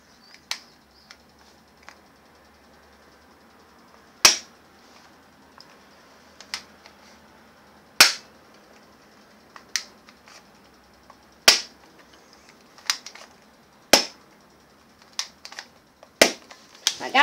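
A BB submachine gun fires about a dozen sharp single shots at uneven intervals, some spaced several seconds apart, each a loud close crack over a quiet background with faint handling clicks between.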